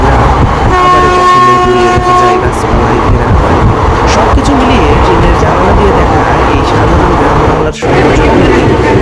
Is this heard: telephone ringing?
no